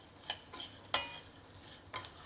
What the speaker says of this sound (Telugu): చివరగా పచ్చి కొబ్బరి ముక్కల్ని కూడా ఇందులో వేసేసి ఒక 2 టైమ్స్ కలిపేసి